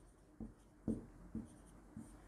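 Pen strokes on paper while a maths solution is written out, four short scratchy bursts spaced about half a second apart, close and quiet.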